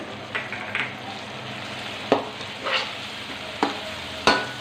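Tomato masala frying with salt and garam masala for chicken tikka biryani, a steady sizzle broken by several sharp scrapes and knocks of a spoon against the pan as it is stirred, close and without talk.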